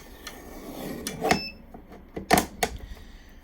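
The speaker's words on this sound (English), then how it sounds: "all I'm going to do is pop open my guillotine paper cutter" A new guillotine paper cutter slices paper: a few sharp, close clunks and snaps of the blade, with a quieter click first and two quick chops near the end, and no talking.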